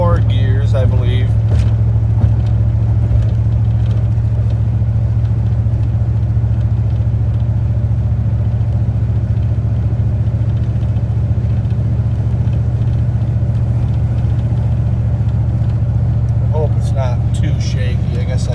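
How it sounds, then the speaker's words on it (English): Steady low in-cab drone of a 1995 Dodge Ram V8 pickup with a Flowmaster-style welded exhaust and 3.54 gears, cruising at highway speed, a constant rumble with road noise throughout and no clear changes. "it kind of gives you good reference as to what the truck sounds like in the cab at what speeds"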